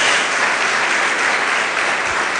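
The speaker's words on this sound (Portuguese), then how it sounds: "Dê uma salva de palmas a Jesus." Congregation in church applauding in steady, dense clapping for a couple of seconds.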